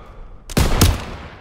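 Gunfire in the Call of Duty WW2 video game during sniping at a church: two sharp, loud shots about a quarter second apart, each with a short ringing tail, and no voices.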